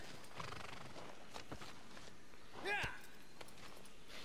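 Horse hooves clip-clop and a horse whinnies in Shadow of the Colossus, soft steps under a quiet background, the neigh rising briefly near the end.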